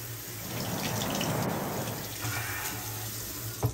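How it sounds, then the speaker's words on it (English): Water runs from a bathroom tap into a sink for a rinse after a late-night shave, a steady close gush that swells and then eases, ending with a small knock, and no one speaks. "gonna rinse off"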